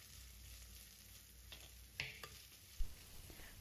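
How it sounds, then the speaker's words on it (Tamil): Garlic, carrot, capsicum and beans sautéing in oil in a pan, giving a faint, quiet sizzle broken by a few light spatula clicks and scrapes. "பீன்ஸ் இதையும் சேர்த்துட்டு நல்லா சாட்டே பண்ணிக்கோங்க"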